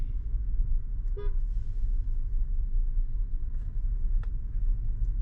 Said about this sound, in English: Did they honk at us?